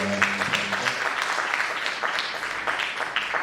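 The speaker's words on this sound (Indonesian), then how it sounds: "kita beri aplaus kepada" An audience at a symposium session on internet, art and solidarity movements applauds in a dense, steady wash of clapping that holds at an even level throughout.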